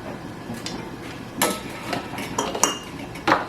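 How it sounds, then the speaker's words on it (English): Salt spooned into glass jars for a batch of chickpeas, with a few sharp metallic clinks and taps of a spoon against glass over a soft background hiss, close and fairly loud. "I'm going to put a half teaspoon of salt in each jar."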